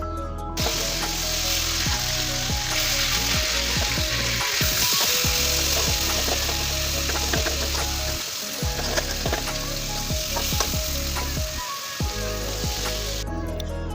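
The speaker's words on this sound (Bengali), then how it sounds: "এই যে মাছগুলাকে আম্মু ভালোভাবে ভেজে নিচ্ছে।" Pieces of a large boal fish frying in hot oil in a home kitchen pan, a loud close continuous sizzle with crackling spatter and occasional stirring clatter, no talking.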